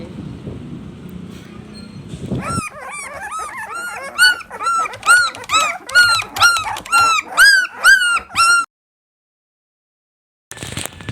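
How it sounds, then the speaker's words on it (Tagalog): Newborn puppies whimper and cry while trying to nurse, a rapid run of high, rising yelps close by, steady and insistent for several seconds before stopping abruptly, then a brief burst returns. "pinapadede na yung ibang mga pups kasi umiiyak dahil hindi nakakadede ng maayos siya"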